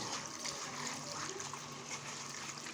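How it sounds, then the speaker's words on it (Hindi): Guar beans are washed in water to rinse off soil, a close, continuous trickle and splash of water with light sloshing. "एक दफ़ा पानी डाल के रख दूँगी ताकि इसके ऊपर जो भी मिट्टी वगैरह लगी होगी ना वो साफ़ हो जाएगी।"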